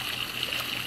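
Water gushes steadily from a hole drilled into a pool, a continuous hissing rush of flow at close range with no break.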